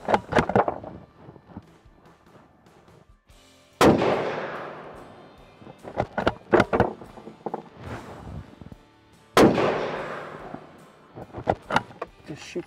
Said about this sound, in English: So let's see how this rifle shoots after, let's say, 6 rounds.